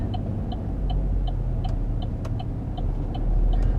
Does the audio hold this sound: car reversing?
yes